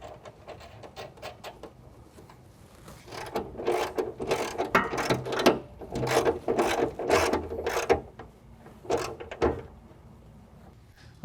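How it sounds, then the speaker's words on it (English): A 10mm nut on a heim joint is tightened during an XOR rear bumper and tire carrier install on a Jeep Wrangler JK, with bursts of quick metallic ratcheting clicks that start faint and grow louder, separated by short pauses. "now we're going to tighten our heim joint that we've made our adjustments"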